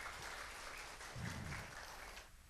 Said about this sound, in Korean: 한번 나오실 때 우리 박수 한번 네